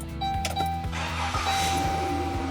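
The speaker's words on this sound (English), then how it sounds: "It asks you to please start the engine." A car engine cranks briefly and catches during a battery cranking test, a short rhythmic starter whir turning into a steady running idle, close and fairly loud.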